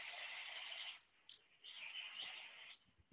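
Recorded calls of golden-crowned and ruby-crowned kinglets, thin high chattering and buzzy phrases broken by a few sharp piercing high notes, heard alone and clear.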